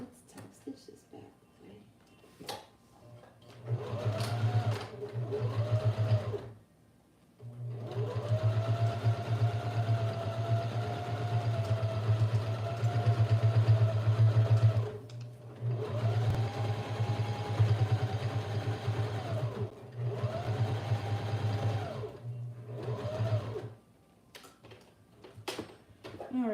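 Sewing machine top stitching vinyl in several bursts, a steady humming rattle running for a few seconds at a time with pauses between, fairly close.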